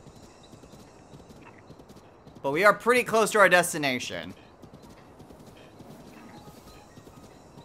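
Giant horse hooves clip-clop steadily at low volume in The Legend of Zelda: Breath of the Wild, a continuous rhythmic trot under game ambience, briefly covered by a person talking.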